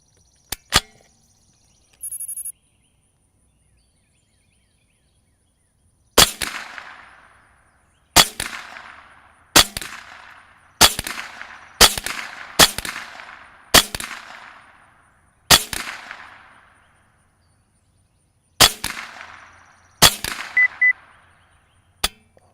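Rifle shots fired one at a time at an outdoor range while sighting in a scope, about a dozen sharp loud cracks spaced a second or more apart, each trailing off in a brief echo, with no talking.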